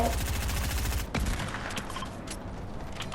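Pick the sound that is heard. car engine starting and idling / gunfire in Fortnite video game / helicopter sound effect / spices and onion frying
gunfire in Fortnite video game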